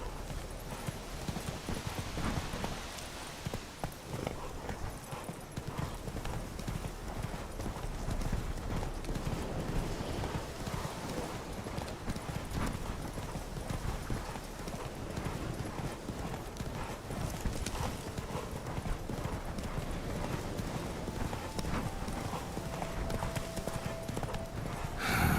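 In The Witcher 3 video game, a horse gallops with a continuous, rapid drumming of hoofbeats at moderate loudness that stays steady for the whole stretch.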